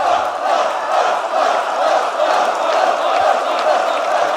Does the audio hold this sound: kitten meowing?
no